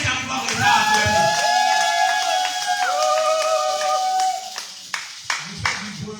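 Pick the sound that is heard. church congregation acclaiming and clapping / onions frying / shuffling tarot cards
church congregation acclaiming and clapping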